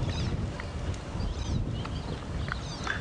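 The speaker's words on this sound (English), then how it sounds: "The wind's picked up quite a bit." A strong early-morning wind rumbles and buffets steadily on a safari drive in the African bush. Faint bird calls chirp intermittently above it.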